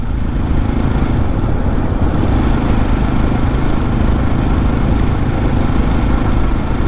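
A motorcycle cruising along an early-morning road on a solo tour from Srinagar toward Drass, its engine a loud, steady drone mixed with wind rush, unbroken throughout with no talking.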